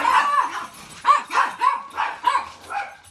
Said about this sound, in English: the dogs had to tell me that my husband was back home, and so they had to announce him.